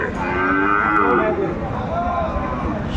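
A cow moos loudly and close by in one drawn-out call at a cattle market, with a second lower moo trailing after it amid a murmuring crowd.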